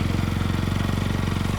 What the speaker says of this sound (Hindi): शाम ढलते ही तीनों अपनी बाइक पर निकल पड़ते हैं।